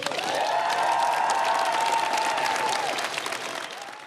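A crowd breaks into warm, continuous applause that holds steady for a few seconds, thick and even, then begins to thin toward the end.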